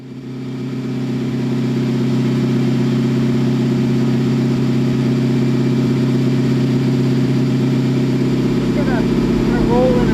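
A twin-turbo LS V8 swapped into a junkyard Porsche 911 drones steadily under load, a loud, constant low engine rumble rising slightly in pitch across the run.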